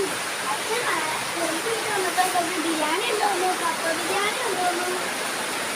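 Heavy rain pours in a steady, dense roar, with a voice speaking faintly underneath the hiss.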